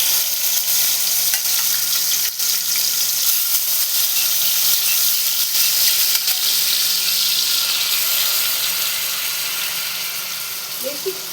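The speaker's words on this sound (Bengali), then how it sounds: "চিংড়ি মাছগুলো ভেজে নিচ্ছি।" Prawns frying in hot mustard oil in a pan, a loud continuous sizzle with steady crackling close by, easing slightly toward the end.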